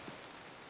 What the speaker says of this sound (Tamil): மழை லைட்டாக தூரிட்டு இருக்கு.